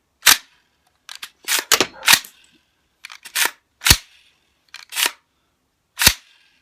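An AR-15 rifle's action cycling rounds fed from an old GI magazine: a string of sharp metallic clacks and snaps, some in quick pairs, near and loud with quiet gaps between.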